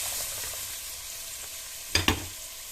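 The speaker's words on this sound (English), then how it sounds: "at this point we'll be adding first the carrots" Carrots fry in heated olive oil with a soft, even sizzle at a moderate distance, then two sharp clacks close together near the end, likely a utensil knocking the pan.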